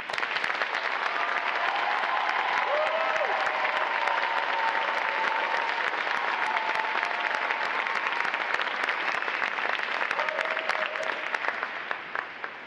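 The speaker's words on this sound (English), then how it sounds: "Please join me in giving them and the other seven graduating divisions here today a round of applause for the outstanding performance." Audience applause fills the hall at a U.S. Navy recruit training graduation, a dense, steady wash of clapping from a large crowd lasting over twelve seconds and fading slightly at the end.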